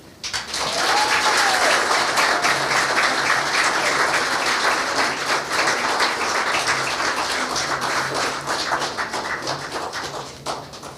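Audience applause after a performance at a ceremony for the ECCB Monetary Council chairmanship, sustained dense clapping that swells quickly and holds steady before tapering near the end, with faint murmurs beneath.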